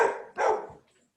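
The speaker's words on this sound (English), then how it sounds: "Crazy dogs." A dog gives two sharp, close barks in quick succession, then falls silent.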